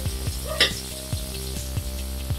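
Chopped garlic sizzles in hot oil in a pan, a steady crackling fry with a short clatter of stirring partway through.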